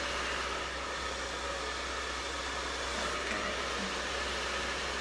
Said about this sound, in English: I think I just didn't blow dry this fully, so let me get a little bit more.